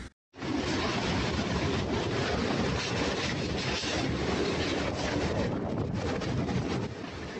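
Hurricane-force winds of over 200 km/h in Xinjiang, China, a loud unbroken roaring rush with heavy buffeting that swells in suddenly and holds steady throughout.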